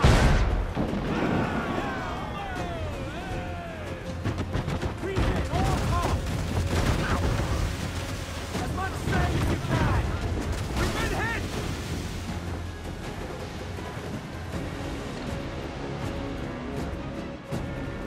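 Pirate-ship cannons firing in a naval battle in Assassin's Creed IV: Black Flag, a dense volley of heavy booming blasts for the first half, then fading into rumbling aftermath and sea ambience, with no talking.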